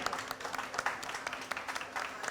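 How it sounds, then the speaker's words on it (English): Audience at the 2021 Thai Food and Fruits Fiesta in Kolkata gives brief, light applause, scattered claps heard fairly softly. "And a round of applause for this lovely gentleman."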